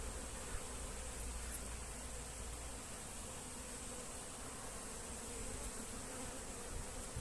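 A swarm of honey bees of about 3.5 kg hums continuously at a newly placed hive on a warm day, a dense, steady buzz heard close and alone.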